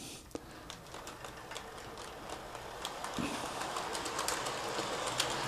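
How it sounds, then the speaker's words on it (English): HO-scale model train running around a circular track on a sports-themed layout: a steady rolling rumble with light repeated clicks of wheels over rail joints, faint and continuous with no talk. "I'm going to start the Steeler train just to show you the operation, and it's just going to go around in a circle"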